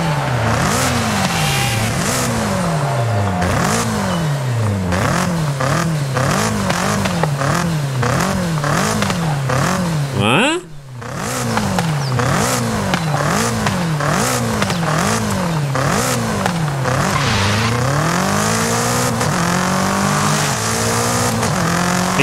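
Cars in Forza Horizon 5 rev their engines hard through repeated rising and falling gear sweeps, with tire squeal and a brief shift break midway, loud and continuous with no talking.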